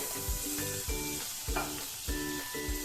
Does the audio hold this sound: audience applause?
no